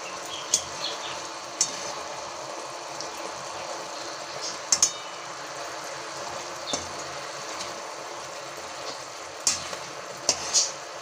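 Raw mustard oil goes into a Bengali sea fish curry sizzling in a pan over low gas, giving a steady quiet frying hiss broken by a few sharp clinks and taps, with no one talking.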